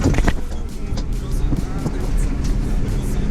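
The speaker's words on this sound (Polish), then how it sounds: "nic nie jedzie, jedzie samochód" A car passes on a rural road while the recording vehicle waits at a turn during straw collecting, a steady engine rumble and road roar holding close throughout.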